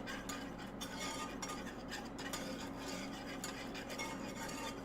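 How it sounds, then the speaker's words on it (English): Flour is whisked constantly into melted butter in a pan for an apple pie recipe, a soft, steady scraping and stirring texture heard close and quietly throughout. "So now we're gonna add the flour and whisk constantly until it's dissolved completely."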